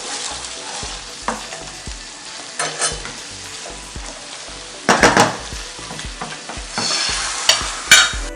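Chicken curry with spinach cooking in a pan, a continuous frying sizzle broken by repeated scraping and clanking strokes of a spoon stirring, close up and irregularly spaced, with no talk.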